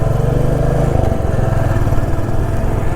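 Motorcycle engine on a long highway ride after a false gear shift, a loud steady droning rumble that dips and changes pitch around the one-second mark, then carries on evenly.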